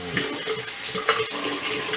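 Tap water runs into a sink during a wet shave with a slant razor, a steady close splashing stream lasting about two seconds, with no talking.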